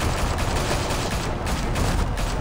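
Sustained police gunfire in the Batman: The Telltale Series video game, a dense continuous barrage of overlapping shots filling the whole stretch at steady loudness with no speech.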